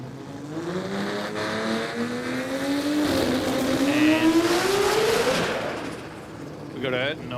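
A Mazda RX-3 modified compact race car accelerating on track, its engine note rising steadily through the gears and growing louder, then fading, with a brief popping burst near the end and a voice talking over it.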